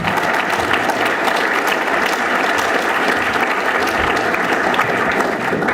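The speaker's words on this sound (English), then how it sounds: "if anyone deserves a round of applause, it is Wes" Steady, dense applause from a banquet audience at an academic plenary, sustained and even throughout without any voices breaking through.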